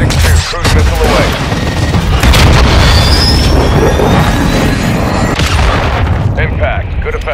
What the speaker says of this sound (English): Trojan 6-2, cruise missile away.